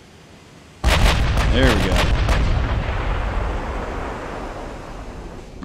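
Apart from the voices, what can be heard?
artillery fire from warship guns in Ultimate Admiral: Dreadnoughts video game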